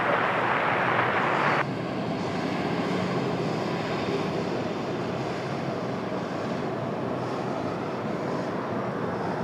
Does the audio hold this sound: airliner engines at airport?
yes